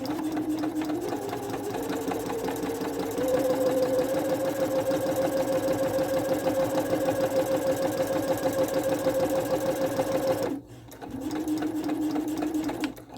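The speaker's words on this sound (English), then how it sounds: "Now I'm going to place one more row of stitching about 1/4 of an inch away from" A sewing machine runs a row of basting stitches for gathering fabric, a steady mechanical whir with a rapid needle rhythm that pauses briefly near the end and then resumes.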